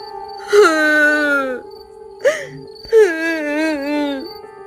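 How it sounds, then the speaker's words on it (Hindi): A woman's soft, mournful wailing cries, long and wavering, come in two drawn-out phrases with a brief sob between, over a steady hum of night insects near a village panchayat building. "अचानक एक औरत की धीमी, करुणा भरी रोने की आवाज सुनाई देती है।"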